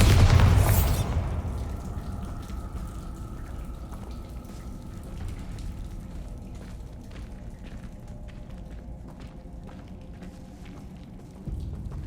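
A loud, close blast opens at once from the Bombarda spell in the video game Hogwarts Legacy, then fades into a long low rumble and crackling debris that lingers to the end.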